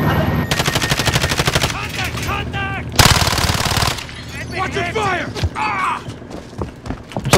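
Loud bursts of automatic gunfire from a video game shooter, with rapid clattering rattles broken by short pauses and one heavy blast, while players shout over the shooting.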